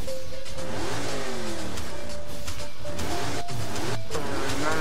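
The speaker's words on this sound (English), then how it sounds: "Camaro." A Chevrolet Camaro engine in the racing video game Blur revs and accelerates in rising sweeps, steady and loud with no talk.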